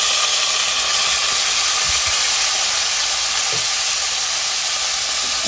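Mindoro string beans (sitaw) hitting a hot pan give a loud, steady sizzle and steamy hiss that holds evenly, with a few faint knocks of utensils underneath.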